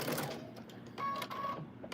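A sewing machine stitching fabric runs in a low, steady mechanical whir with small rhythmic ticks, close and fairly quiet, with no talk over it.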